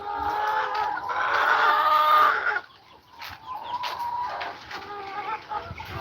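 Chickens cluck and call on a farm in Aklan, with a loud, continuous run of harmonic clucking for the first few seconds that drops to quieter, scattered calls.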